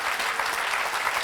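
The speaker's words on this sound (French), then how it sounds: "On peut applaudir Pierrette." A French television studio audience applauds a guest named Pierrette, a brief burst of fairly faint, even clapping with no pause.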